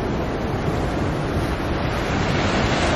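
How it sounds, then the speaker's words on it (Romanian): Ocean waves in San Francisco wash in a steady, dense roar of surf mixed with wind buffeting the microphone, loud and continuous; no birds stand out. "Pasarele și ocean."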